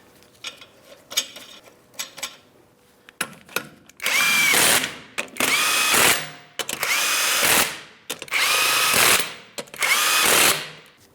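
Power tool driving the five 21mm lug nuts onto a Ford Transit 250 front wheel: a few short trigger bursts, then five long loud whirring runs with brief pauses between them.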